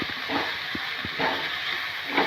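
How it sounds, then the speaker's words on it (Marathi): Fenugreek leaves sautéing in a spice masala with turmeric for a methi vegetable dish, giving a steady sizzling hiss with soft scraping stirs, close and continuous. "मसाल्यामध्ये मेथी परतून घ्यायची"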